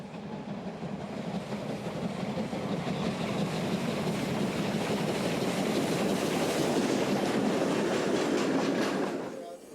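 A German Kriegslok decapod steam freight train rumbles past at steady volume, broadband clatter and rolling noise filling the scene, with a faint rhythmic clack before it cuts off near the end.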